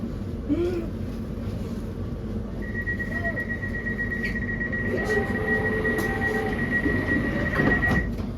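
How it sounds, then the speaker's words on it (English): A London Overground Weaver line train rumbles steadily along the track, with a long high whine from the rails or motor and faint clatter inside the carriage. "This is a WEAVER line train to Enfield Town."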